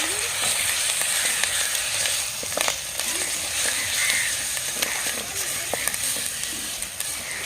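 Ginger paste sizzling and frying in a hot pan, a steady crackling hiss that holds throughout with faint scraping as it is stirred; no voices.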